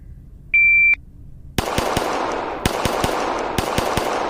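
Pistol shots at a shooting practice session fired from the holster: a shot timer beep, then a rapid string of about seven sharp, loud reports at uneven spacing, with room noise ringing between them.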